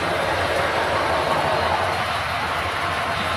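A model passenger train runs steadily along a layout track, giving a constant, fairly loud rolling rumble with faint clatter throughout.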